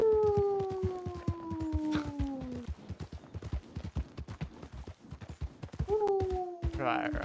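A wolf howls in the Western role-play game El Rancho RP, a long falling cry that trails off and later returns, over a steady clip-clop of horse hooves.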